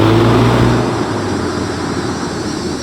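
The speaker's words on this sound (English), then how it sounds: "And you get a bit more sound from the engine" A 2021 Mercedes-AMG A35 in Sport Plus mode makes a loud, steady engine drone that includes artificially enhanced sound, with a low hum that eases slightly after the first second.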